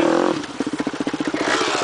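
An off-road dirt bike rides a trail near Rio Manso, its engine chugging in a fast pulsing rhythm close by, revving and clattering over rough ground.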